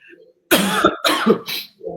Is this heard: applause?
no